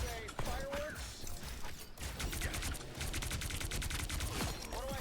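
Rapid fireworks-like gunfire crackles in the video game Marvel Rivals, a loud, dense fusillade of shots rattling almost without pause, with a voice talking over it.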